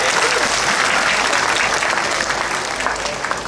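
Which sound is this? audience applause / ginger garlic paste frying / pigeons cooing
audience applause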